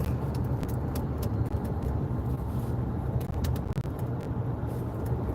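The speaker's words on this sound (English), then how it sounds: "Alright, we're making the car drive." A car drives during a live driving stream, its engine and road rumble forming a loud, constant broadband roar throughout, with faint clicks and rattles on top and no talk.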